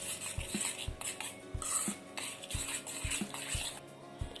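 Powdered sugar is stirred into a bowl for shankarpali dough, with a spoon clinking and scraping against the bowl in a quick, regular rhythm about twice a second, quiet and close, with no voices.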